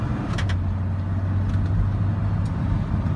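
A car driving along a road, steady low engine hum and road rumble from inside the cabin, with a few faint clicks and taps over the continuous drone.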